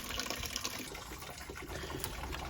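Antifreeze drains out of the radiator of a Farmall F-14 tractor as a steady, faint trickling gush of liquid that runs on without a break.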